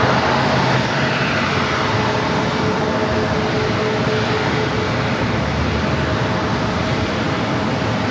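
A British Airways airliner taxis along a taxiway at San Diego airport, its engines giving a steady, broad, loud rumble and whine that holds evenly throughout with no voices.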